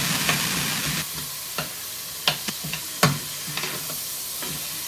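Hamburger meat sizzles and fries steadily in a pan, with sharp scraping clicks from a utensil stirring it at irregular intervals, close up and with no talking.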